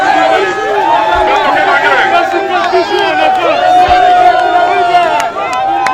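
A jubilant crowd at Pozo bridge in Matadi, Kongo Central, greets the arriving official with loud, sustained cheering and shouting, a dense close-up roar of voices throughout.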